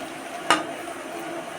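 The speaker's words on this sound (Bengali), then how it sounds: "একবার চারটে দিয়ে একটু ভেজে নিচ্ছি" Four semolina sweets fry in a pan with a quiet, steady sizzle, broken by two sharp clinks of a utensil against the pan.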